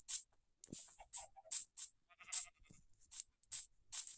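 Several sheep in a video game bleat in quick succession, short nasal cries with brief pauses between them, fairly close and clear.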